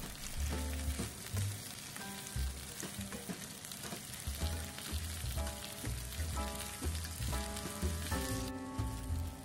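Beef chunks brown in about three tablespoons of hot oil in a large pan over medium heat, giving a steady close sizzle and crackle with occasional stirring clinks.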